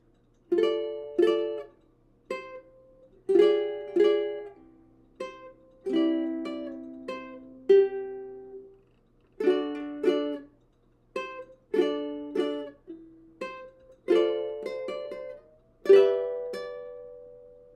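Fingerpicked ukulele melody of a song plays alone, close and clear, with clusters of plucked notes and ringing chords phrased in steady repeating groups across the passage.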